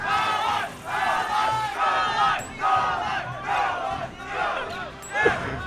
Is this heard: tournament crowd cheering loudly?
yes